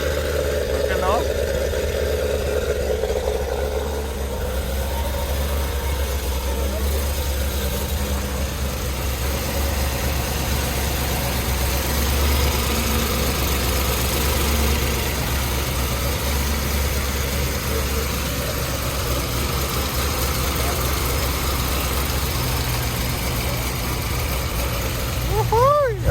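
Hennessey-modified C7 Corvette Z06 making 850 hp with new heads, cam and an opened-up exhaust, idling nearby with a deep, steady, rumbling burble, a brief rev change early and voices talking over it.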